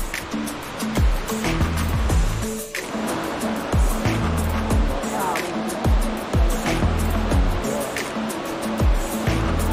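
Steady loud rush of river water near the Curug Koja waterfall, a continuous broadband roar running through the whole stretch with no voices.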